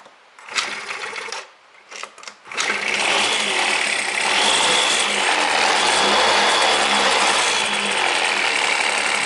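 A small Yamaha Jog Aprio scooter engine sputters briefly, cuts out, then catches and settles into a loud, steady mechanical clatter that runs on without pause.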